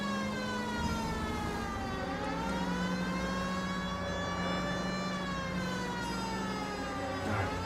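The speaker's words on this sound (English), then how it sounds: "Turn the siren on." Police car siren in the game L.A. Noire, a loud continuous wailing tone sweeping up and down in slow cycles over engine and road noise, steady and close throughout with no talking.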